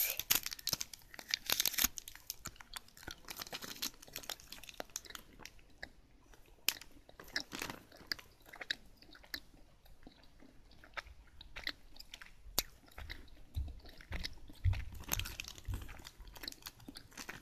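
Orange-flavored chewing gum is chewed close to the mic, giving soft wet smacks and crinkly mouth noises in an irregular rhythm over a quiet background.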